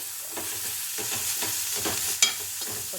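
Flat beans frying in oil with ginger and garlic give off a steady, close sizzle, broken by soft stirring scrapes and one sharp clink near the end.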